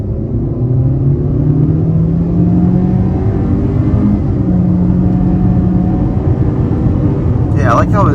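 A 2023 Honda CR-V EX-L pulls away hard from a complete stop, its engine droning loud and steady as the pitch climbs through the run, with a brief faint chirp near the end.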